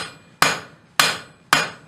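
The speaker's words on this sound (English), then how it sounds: "We're going to come straight down with our hammer blows at first." Three sharp, ringing hammer blows strike a hot steel leaf being forged by a blacksmith, each impact loud and close, about half a second apart, with the ring decaying between strikes.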